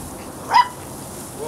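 Puppies barking excitedly, a single short yip cutting through quiet background noise at close range.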